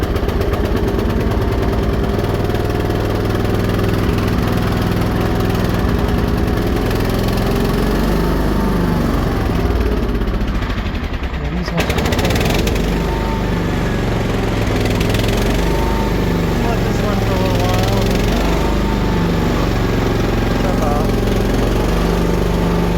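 A small tractor's engine runs with choke and a little throttle while in neutral, a loud, continuous chugging drone close by with a brief dip partway through; a voice may be faintly present.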